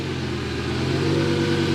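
A Lamborghini engine runs loud and close with a steady low throbbing drone that swells slightly toward the end, like it is catching and revving after starting; no voices.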